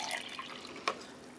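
Hot dye water for tie-dye is poured into a container, making a soft, close trickle and splash for about a second and a half, ending with a sharper single drip. No one speaks.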